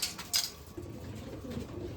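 A golden-eyed pigeon gives soft, low coos close by, rising slightly toward the end over a faint background hiss, with a couple of brief sharp knocks at the start.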